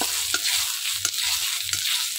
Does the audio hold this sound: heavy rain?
no